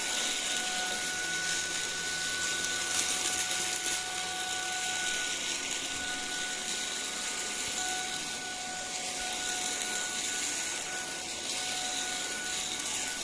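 An Ultenic U12 Vesla cordless stick vacuum cleaner runs steadily at close range, a continuous even whine with a faint high tone held throughout and no talking.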